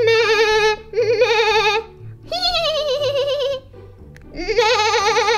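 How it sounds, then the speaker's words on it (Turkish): A toy farm animal plays a loud electronic sheep bleat, several wavering, nasal "meh" calls in a row with short pauses between them and no talking over them. "Bak, bunlar da koyun."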